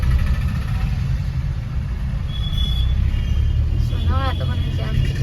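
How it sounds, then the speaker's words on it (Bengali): Road traffic jam with cars, trucks and buses idling close by, a constant low engine rumble with a brief higher tone and a short hiss near the end, while people talk faintly. "আজকে রাস্তায় প্রচন্ড জ্যাম রাস্তাতে, যেখানে দাঁড়াচ্ছি 2-3 মিনিট তো জ্যাম লেগেই যাচ্ছে।"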